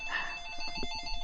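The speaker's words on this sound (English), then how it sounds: "And the phone's ringing." A telephone rings with a bright, steady electronic trill that stays clear and fairly close throughout, while low clattering movement sounds are heard beneath it.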